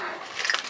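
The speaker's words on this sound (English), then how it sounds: "Keys to everything." A bunch of keys jangles briefly up close, a quick metallic jingle and rattle that peaks near the end, with no voices.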